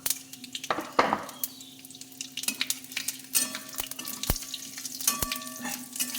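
Panch phoron spices with bay leaf and dried chilli fry in hot oil in a pan, a soft continuous sizzle broken by sharp clinks and scrapes of a spoon against the cookware, close by.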